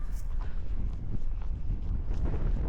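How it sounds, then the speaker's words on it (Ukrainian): Steady rumbling gusts buffet the microphone, a dense low roar of strong wind with no clear pauses. "мене вітер такий піднявся, прям був вітер"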